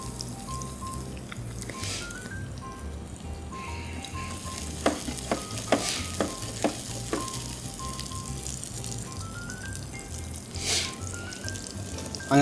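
Shallot and coriander seed toast in olive oil in a pan, a steady close sizzle with crackles and a few sharp pops and stirring clicks partway through.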